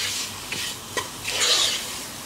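Prawns frying in a pan, a steady sizzle with a few scraping and stirring strokes of a spoon against the pan, close up, no voices.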